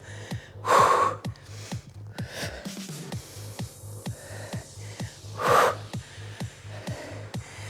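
Heavy exercise breathing during a full-body cardio workout, two big forceful inhales and exhales with steady rhythmic panting and puffing close to the mic in between.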